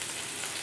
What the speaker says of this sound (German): Deswegen einmal schön anbraten.